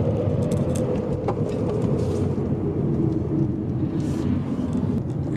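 Go kart engine running steadily and loudly from start to end, a continuous low rumble with scattered scraping and skidding noise as the kart slides at a park.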